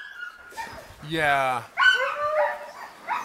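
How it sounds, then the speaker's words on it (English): Eager sled dogs waiting to mush yelp, whine and yip in rising, excited bursts close by, with a person speaking briefly among them. "I think Gary's dogs behind me are pretty strong, huh? They really want to go."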